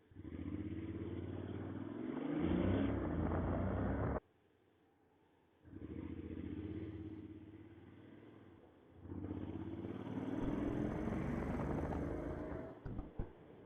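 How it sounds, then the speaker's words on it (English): A Honda X-ADV scooter's parallel-twin engine drones steadily while riding, with loud stretches broken by a brief drop around the four-second mark, then swelling again with wind rumble and some clatter near the end. "the sound of B-twin roar, but it's a parallel twin"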